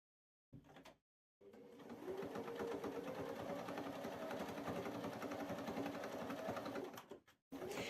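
Sewing machine runs an interrupted zigzag stitch joining patchwork blocks, a brief burst then a steady close mechanical whirr with rapid needle clatter for several seconds before stopping, no talking.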